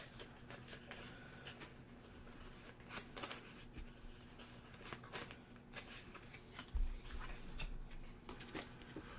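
Cards for a solo tabletop card game are shuffled in a series of quiet, crisp riffles and flicks, soft and close, with no voices.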